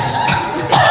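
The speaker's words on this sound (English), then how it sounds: "that's a cough, that was a cough" A single rough, breathy cough burst, loud and close, followed by a second harsher exhale.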